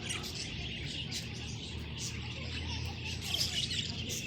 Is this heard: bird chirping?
yes